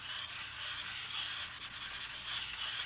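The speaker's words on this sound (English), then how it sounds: "the bottom of the mouse rub against this aluminum and it creates that brushing noise" An optical mouse slides back and forth across an aluminum mouse pad, making a steady, fairly loud scratchy brushing hiss that runs continuously for about three seconds, with no talking.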